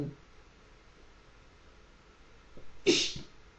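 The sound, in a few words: sneeze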